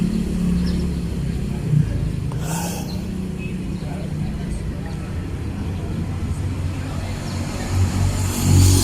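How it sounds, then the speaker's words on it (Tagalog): Cars and other vehicles roll past on a town street, a steady low rumble of engines and tyres with a louder pass swelling near the end, while people talk over the traffic. "tingin-tingin tayo sa mga sasakyan na dumadaan"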